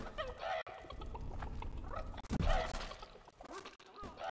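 Chicken clucking in the game Witch It: repeated agitated clucks and squawks in quick, uneven bursts, close and fairly loud over a busy game background, with a louder flurry midway.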